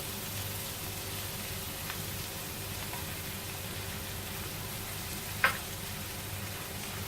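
Chilli chicken fries in a pan with a constant, even sizzle and hiss, with one sharp click partway through and no talking.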